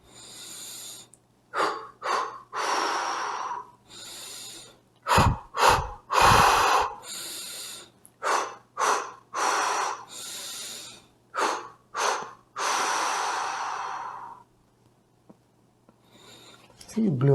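Forceful exhalations during a stress-relief breathing exercise: a run of strong, breathy blows out, some short and sharp, others long and sustained, close and loud, with a few gasping inhales between them.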